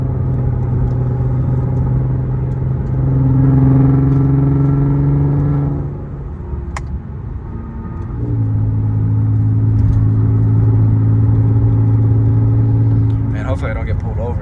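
An Audi TT with a VR6 engine roars loudly from inside the car while driving. The engine climbs through the revs, drops off briefly around the middle, then surges again with a deep rising drone, and a voice briefly speaks.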